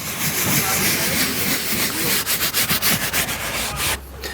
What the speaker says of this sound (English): So you can clean the perforated leather just the same.